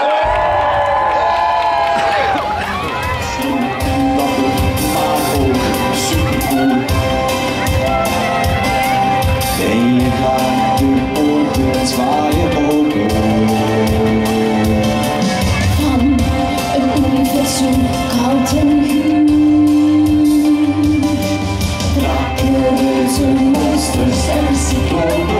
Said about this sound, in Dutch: geef ze een daverend applaus